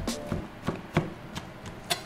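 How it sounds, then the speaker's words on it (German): Rosemary chopped with a knife on a cutting board: about seven crisp, evenly spaced chops, close by and fairly quiet, with no voices. "In der Zwischenzeit mache ich den Rosmarin hier mal ein bisschen klein."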